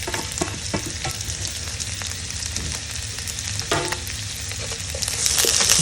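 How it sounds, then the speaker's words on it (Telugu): Green peppers, carrot, cabbage and green peas stir-fried for tofu fried rice make a loud, steady sizzle with scraping and tossing clatter throughout. "ఇవి జస్ట్ ఒక 1 మినిట్ టాస్ చేసుకుంటే సరిపోతుంది"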